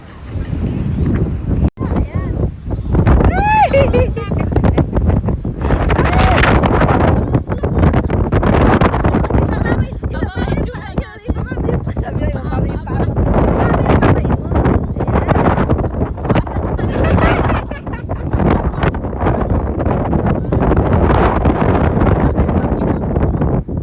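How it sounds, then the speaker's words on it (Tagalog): Strong wind roars and buffets the microphone steadily throughout at Hitachi Seaside Park in Ibaraki, Japan, among tulip fields, with a person talking faintly underneath the gusty rumble. "Binabagyo ang mga tulip, oh."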